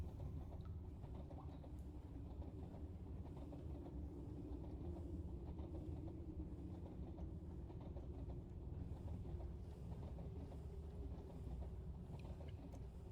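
A train running in the Minecraft GregTech modpack, with a steady low rumble and faint rhythmic clatter that holds evenly throughout, continuous and moderately distant.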